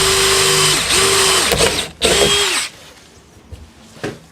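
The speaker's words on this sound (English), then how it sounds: "using the supplied bit, we're going to drill through" A power drill whirs in two short bursts drilling rivet holes for a garden room window, pitch dropping as it bites into material, followed by clicks and quiet handling noises.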